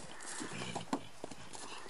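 Horse hooves clip-clopping at a show-jumping training session, a few light irregular hoof knocks over a steady outdoor background, soft and at middle distance.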